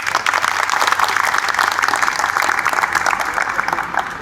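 Crowd applause at an electric bike factory celebration in Pakistan, a dense, steady wash of many hands clapping that carries evenly from start to finish with no pause.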